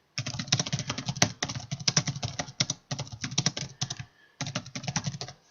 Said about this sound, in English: I can type away